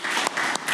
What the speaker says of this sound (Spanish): un aplauso al Señor por sus vidas